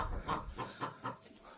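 Chickens clucking in a barn full of animals, a steady run of five or six soft rhythmic clucks close by over low background noise.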